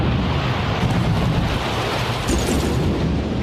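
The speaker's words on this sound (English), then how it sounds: "Bomb detonated!" A cartoon bomb explosion from Thomas and Friends, heard as a loud, sustained roaring rumble with a dense low-end wash that stays steady for several seconds, with no distinct separate blasts.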